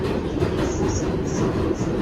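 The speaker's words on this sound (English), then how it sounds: "these trains can run really fast in tunnels." A New York subway train runs fast through a tunnel in Manhattan, a loud, continuous roar with rhythmic clickety-clack of the wheels and faint high whines on top.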